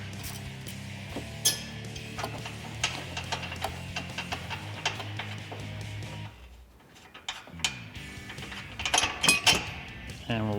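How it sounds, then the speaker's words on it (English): A 15 mm wrench turns the crash bar bolts on a 2021-2022 Ford Bronco during a front leveling kit install. Close metallic ratcheting, clinks and mechanical clicks run steadily, with a short quieter stretch and no talk. "You're going to use a 15 millimeter. And we'll just loosen these bolts up."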